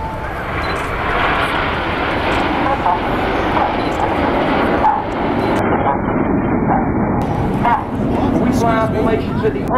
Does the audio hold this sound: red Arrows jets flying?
yes